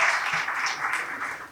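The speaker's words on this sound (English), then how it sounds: "Round of applause for all teams." A brief burst of applause at a quiz competition, many hands clapping together at moderate distance, soft and steady for a moment.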